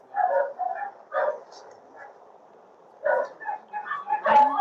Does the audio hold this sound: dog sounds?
yes